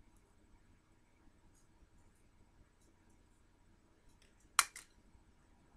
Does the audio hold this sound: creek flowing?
no